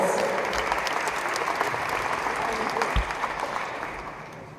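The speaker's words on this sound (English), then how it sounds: "Let's give them another round of applause." A round of applause at an urban education forum in Buffalo gives dense, sustained clapping from a large audience that fades slightly toward the end.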